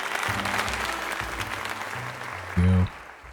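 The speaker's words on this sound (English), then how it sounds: "Let's give another half out round of applause to Bruiser." Crowd applause and cheering at a tournament in a Pokémon game, steady and moderately loud, with low electronic music tones underneath and a short loud chime near the end.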